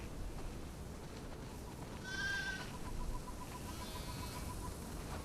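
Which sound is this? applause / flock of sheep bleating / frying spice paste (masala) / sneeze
flock of sheep bleating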